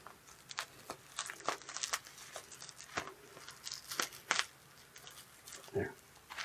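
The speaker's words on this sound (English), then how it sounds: "You wanna take it out of the bubble wrap or not?" Bubble wrap is pulled and peeled off a Dover Impulse elevator emergency light lens, giving a series of close, irregular crinkling and tearing rustles, quiet between bursts of handling.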